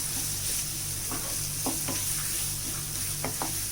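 Vegetable keema curry fries in a pan, a steady close sizzle broken by several short scraping strokes of a spoon stirring, with no voices.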